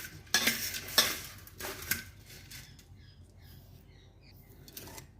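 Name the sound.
stirring bhel with a spoon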